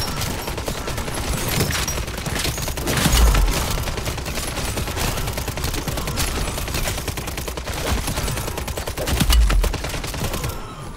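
A submachine gun in MW3 Zombies fires long sustained bursts, loud and close, a continuous rapid rattle over about eleven seconds with two heavier booming moments mixed in.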